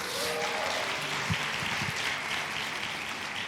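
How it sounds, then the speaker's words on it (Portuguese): A church congregation claps for visiting guests, a brief, moderately loud burst of applause from a room full of people with a faint voice near the start. "Uma salva de palmas a quem está nos visitando hoje."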